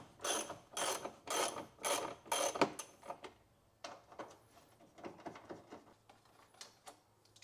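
A 10mm bolt being loosened on the air intake box of a 2007 Subaru WRX, heard as a rapid run of loud, close ratchet clicks in bursts, then lighter scattered clicks and handling taps, with no talking.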